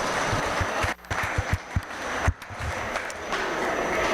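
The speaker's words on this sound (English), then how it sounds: "Let's give the young lady a round of applause." Audience applause at a livestock feeder calf show, a sustained wash of clapping across the arena with a few louder claps standing out, moderately distant and without talk.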